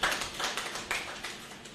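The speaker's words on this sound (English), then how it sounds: "Another round of applause." Applause from an audience at an artificial intelligence lecture, a brief burst of dense, fairly close clapping that stays fairly even and then thins slightly.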